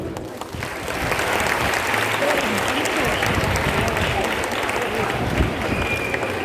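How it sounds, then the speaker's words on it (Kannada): Audience clapping at a Yakshagana competition prize distribution ceremony, sustained and fairly loud applause filling the hall for several seconds, with no clear voices over it. "ನಿಮ್ಮ ಚಪ್ಪಾಳೆ ಒಂದು ಒಳಗಿರಲಿ"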